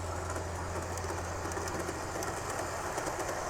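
A model train running on an outdoor deck layout makes a soft, steady rolling rumble with faint clicks, heard from a distance under birdsong, including pigeon coos, with no talking.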